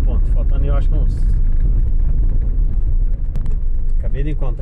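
A truck passes on a dusty dirt road in rural Brazil, a heavy continuous rumble with engine and road noise filling the clip, while someone talks over it.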